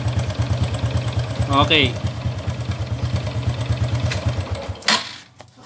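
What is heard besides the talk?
motorcycle engine idling with a knocking tak-tak noise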